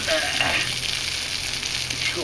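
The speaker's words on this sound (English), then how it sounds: "We'll throw the onions in now." Onions sizzling in a hot pan beside wild boar burgers, a steady close crackling hiss that runs unbroken throughout with no talk.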